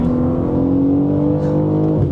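A BMW M3 CS (G80) with xDrive accelerating hard on a race track, its engine a loud, steady, close droning roar with a slowly rising pitch and no talk.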